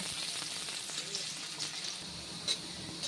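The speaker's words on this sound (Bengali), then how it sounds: "এবার পেঁয়াজটা একটু হালকা বাদামি করে ভেজে নেব।" Chopped onions fry in hot oil with bay leaves while browning as the base for a mutton soup, a steady close sizzle with occasional stirring and light clinks, no talk.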